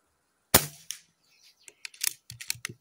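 A single sharp crack from an SMK Victory PR900 budget air rifle firing, close and loud, followed by a scatter of small clicks and taps.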